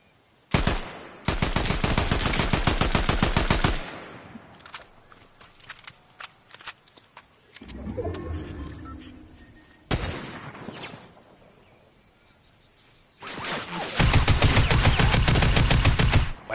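Rapid automatic gunfire from a gun in the video game Fortnite, two loud sustained bursts of fast repeated shots near the start and end, with scattered single shots and footsteps in between.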